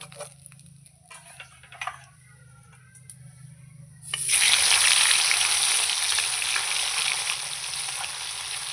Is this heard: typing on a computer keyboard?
no